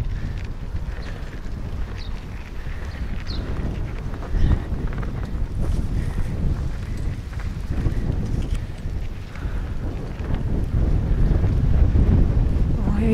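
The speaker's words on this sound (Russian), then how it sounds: "Ой, ветер сильный очень." Strong wind roars and buffets the microphone continuously, a heavy low rumble that swells toward the end.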